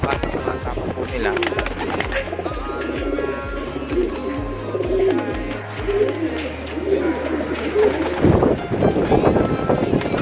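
Racing pigeons at a loft, soft repeated cooing close by, heard over a low rhythmic hum with someone talking through much of it.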